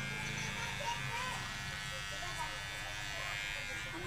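Electric hair clippers buzz steadily and close while cutting hair, a continuous faint drone under ongoing talk.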